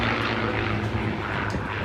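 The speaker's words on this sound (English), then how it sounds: "powered by Rolls-Royce designed and Packard built Merlin engines, V12 engines" P-51 Mustang aircraft, built by North American and powered by Rolls-Royce-designed, Packard-built Merlin V12 engines, roar steadily at an airshow, a loud broadband engine drone with no pauses.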